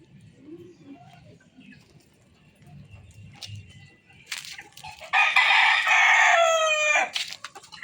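Boston-blood gamefowl rooster lets out one loud, close crow lasting about two seconds, preceded by faint clucks and soft low murmurs in a quiet yard.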